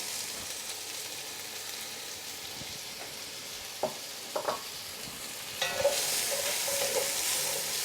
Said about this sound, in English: what we're going to do now is sweat our onions and then followed by our garlic